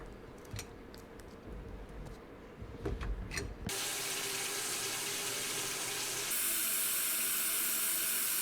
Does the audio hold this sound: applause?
no